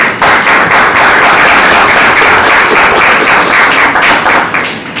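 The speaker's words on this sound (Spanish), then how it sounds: "para quien pido el más fuerte aplauso" Loud, sustained applause from an audience at a book presentation in Cuba's National Library, dense clapping filling the room steadily without a pause.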